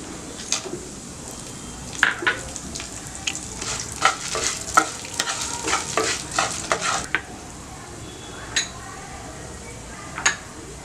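Urad dal and black pepper fry in a pan with a steady soft sizzle, while a spoon stirs and scrapes against the metal in repeated clinks, close and moderately loud.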